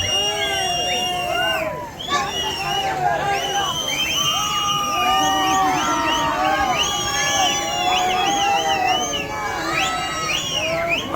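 A huge crowd at a village cattle fair, the Baby Betta jatre held for bulls, keeps up a loud continuous babble full of shouts, whistles and cheers, with people talking nearby.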